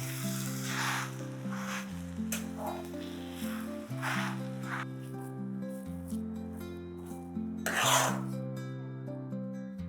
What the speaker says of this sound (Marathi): इथे मी 4 चमचे मीठ टाकतेय आणि चांगलं एकसारखं हलवून घ्यायचं.